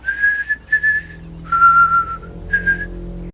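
A man whistles a slow tune in a back garden in a film scene, four clear phrases with short pauses between them, close and alone over faint background tone.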